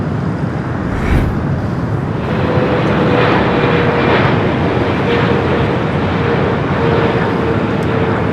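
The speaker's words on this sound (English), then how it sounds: "I'm going to stay with the shot we do with China Airlines arriving on the north side." A China Airlines airliner arrives on the north side at LAX, a steady broad roar of jet engines holding at a loud level throughout, with a faint whine riding over it.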